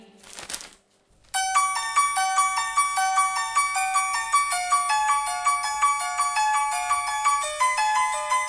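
A mobile phone ringtone plays a loud, bright melodic tune of repeating chimed notes that carries on steadily after a brief soft rustle at the start, with no talking.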